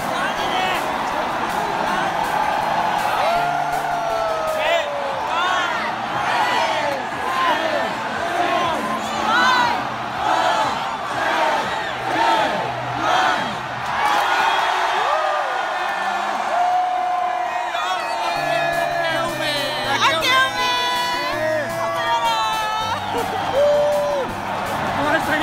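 A dense New Year countdown crowd packed around Shibuya Crossing in Tokyo roars continuously, with whoops, scattered shouts and bursts of cheering rising and falling close by, and voices chattering throughout.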